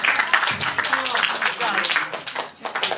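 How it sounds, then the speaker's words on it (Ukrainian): An audience applauds child performers at a New Year celebration in a children's boarding home: brisk, uneven hand clapping that swells and fades, with adult and children's voices talking over it. "Оплески."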